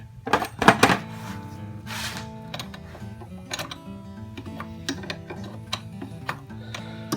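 A hand wrench snugs a motor mount bolt on a 2007-2012 Nissan Altima, giving close metallic clicks and ratcheting ticks, busier at the start and then sparser, with a faint hum underneath.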